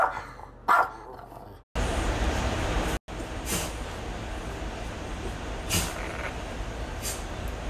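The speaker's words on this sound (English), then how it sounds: "dogs are barking." Dogs bark in several separate bursts, some sharp and close, over a constant rumbling background hum.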